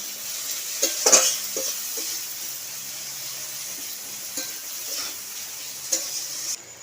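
Chopped onions sizzle in hot oil in a pan while a spoon stirs them, a soft steady frying hiss broken by several light scraping and clinking strokes, close and without voices.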